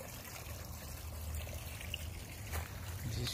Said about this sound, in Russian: Вода еле-еле бежит.